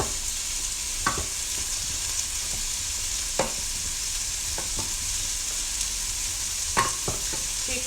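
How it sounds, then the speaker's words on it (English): Diced beef and pasta simmer with a steady broadband sizzle in a pan, broken by a few sharp scrapes and knocks as a spoon stirs and loosens food stuck to the bottom, close and fairly loud. "I'm going to simmer that."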